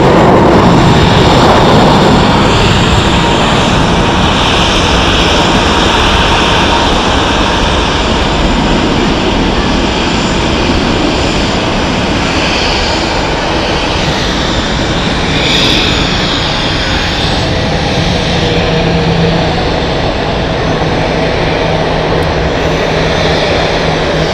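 A Boeing 757 jet at Zurich Airport gives a loud, steady broadband engine roar that stays close and continuous throughout, with no talk over it.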